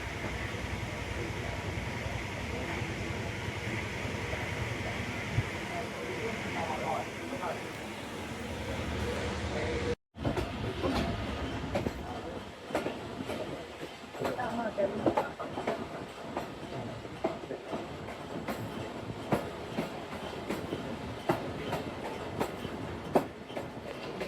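Passenger train departing Badami Bagh station on the Narowal to Lahore line: steady rumble and clatter of the carriages rolling, heard from on board, with a brief dropout midway and faint voices in the background.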